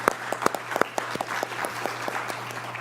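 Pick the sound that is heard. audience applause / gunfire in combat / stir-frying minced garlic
audience applause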